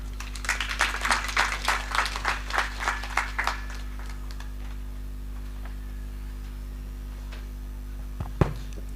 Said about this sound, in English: Let's clap again for our Chancellor for that wonderful speech